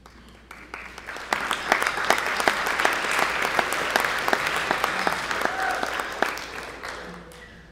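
An audience breaks into applause after a chamber orchestra performance, dense clapping swelling quickly, holding steady, then thinning out toward the end.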